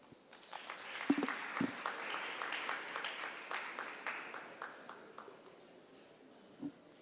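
Audience applause at a national debate championship final, a sustained burst of many hands clapping that swells quickly, holds steady for several seconds, then thins out and fades, with one brief louder clap near the end.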